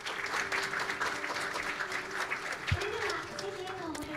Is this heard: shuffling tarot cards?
no